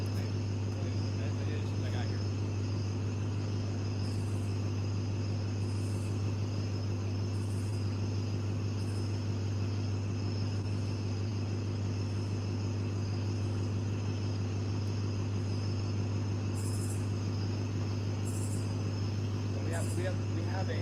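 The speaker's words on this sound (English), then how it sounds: "the crickets keep getting louder and louder." Crickets chirp outdoors at night, a dense steady insect drone with a constant low hum beneath it.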